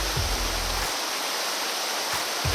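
A creek rushes steadily and loudly as a hiker wades across using trekking poles in Alaskan mountain country, its broad hiss joined by a few low thumps of footsteps or poles near the start and end.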